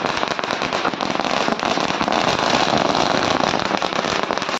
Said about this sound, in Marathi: मग आम्ही पळतच आलो खाली फटाके फोडायले.